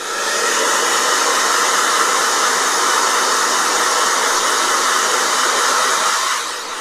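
A blow dryer aimed at a freshly painted portrait runs loud and steady for nearly seven seconds, easing off slightly at the very end.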